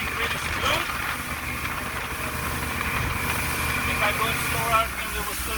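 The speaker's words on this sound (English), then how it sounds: "My motor is running really smooth" A Mercury two-stroke outboard boat motor runs smoothly at a steady idle, its engine drone continuous and fairly loud throughout, with a few faint background knocks.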